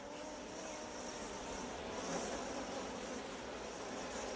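A steady, dense drone of many honey bees buzzing close by at a garden beehive, continuous and even throughout with no voices.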